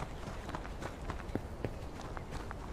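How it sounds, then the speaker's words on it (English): Footsteps run quickly in the woods, a rapid run of soft thuds that stay close and fairly even over a steady background rustle. "I hear footsteps."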